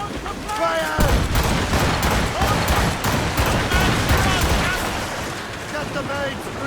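Ship cannons boom in a dense volley during an Assassin's Creed Rogue naval battle, a loud barrage of overlapping blasts with shouted commands over the top.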